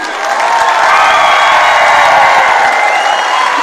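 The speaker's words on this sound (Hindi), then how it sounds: "मैं चाहूंगी कि उसके फाउंडर के लिए एक बार जोरदार तालियां हो जाए।" An audience at a stage event bursts into loud, sustained applause and cheering for a company founder, a dense wash of clapping that swells quickly and holds.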